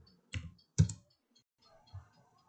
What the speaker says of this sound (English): So type in 84.